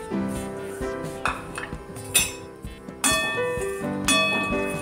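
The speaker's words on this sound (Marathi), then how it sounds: "ही सुकट थोडी भाजून घ्यायची।" Dried fish (sukat) rattles and scrapes in a hot kadhai while it dry-roasts, with repeated clinks of a metal spoon on the pan and occasional louder knocks, close and steady, with no talking.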